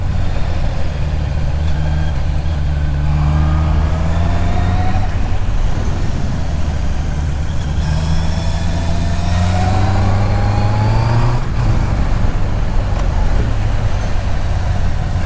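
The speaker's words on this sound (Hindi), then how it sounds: "so now let me enjoy and you also enjoy the line 4 sound" Honda CBR 650R inline-four motorcycle engine heard while riding: a loud, continuous engine drone whose pitch rises and falls through the gears, with steady road and wind noise and no voices.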